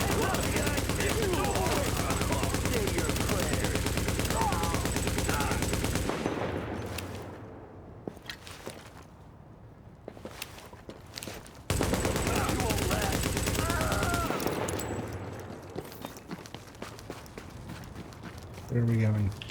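Video game gunfire while supplies come under attack: loud, dense bursts of automatic fire and clattering action, cutting out for a quieter stretch of scattered pops, then surging back before fading.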